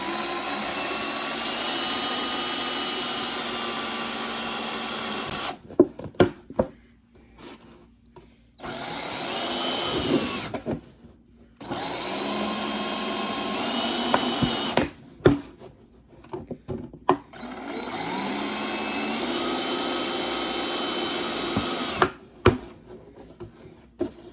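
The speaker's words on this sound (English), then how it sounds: "It might be easier just to drill a hole." A power drill whines loudly in long sustained runs, stopping and restarting several times with clattering handling noises in the gaps.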